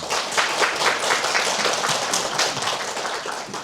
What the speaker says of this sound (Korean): 모두 환영의 박수 부탁드리겠습니다